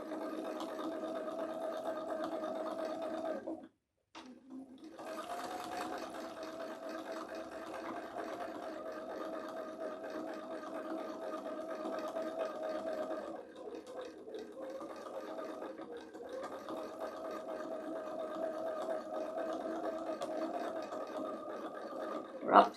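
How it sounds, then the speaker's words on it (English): A sewing machine stitching a quilt block for a heart table runner, a steady faint mechanical whir that stops briefly, then runs on evenly with a slight change in pitch. "we just keep sewing"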